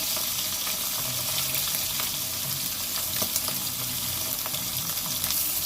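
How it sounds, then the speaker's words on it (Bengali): Katla fish pieces sizzle in hot oil with a dense, steady crackle and occasional sharper pops, close up and continuous without any talking. "এবার মাছটাকে ভেজে তুলে নেব লাল লাল করে"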